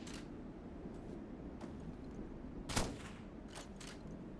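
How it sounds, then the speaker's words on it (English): Pistol gunfire in the video game Metal Garden: several faint, sharp shots at irregular intervals over a steady background hum, with one louder, closer crack near the middle. "You can hit me from here with their pistols."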